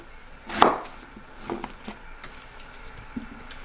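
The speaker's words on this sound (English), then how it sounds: "Cut up the potatoes." Red potatoes being cut into big chunks on a board, one sharp knife chop followed by a few softer taps and knocks, close and quiet with no talking.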